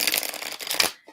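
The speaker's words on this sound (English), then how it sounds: "Couple more shuffles." Tarot cards shuffled by hand, a close, crisp riffling flutter lasting under a second that stops abruptly, followed by a faint soft tap.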